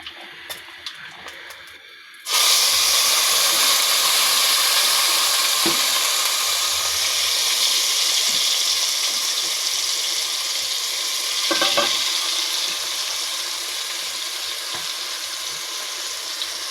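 Ginger, garlic and onion paste hits hot oil in a pan, bursting into a loud, close sizzle after a quiet start, then frying steadily with occasional stirring.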